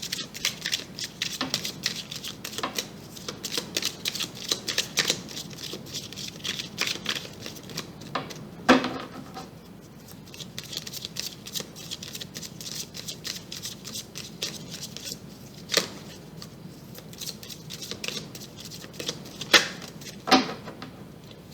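Tarot cards shuffled by hand for a reading, giving a close, steady patter of riffling and sliding cards with a few sharper snaps scattered throughout.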